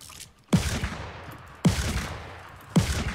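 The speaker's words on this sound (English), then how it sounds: "You guys are getting shot at." Three sharp gunshots from the Fortnite video game fire at regular intervals, each a loud crack followed by a decaying echoing tail.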